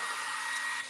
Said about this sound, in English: I'm going to blow dry real quick.